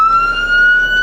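A 2008 Sprinter's emergency siren blares as a loud, steady high electronic tone with bright harmonics, close and alone for about a second.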